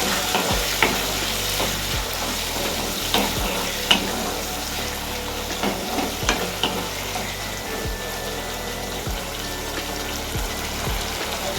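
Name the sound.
stirring vegetables and egg chilli with ketchup in pan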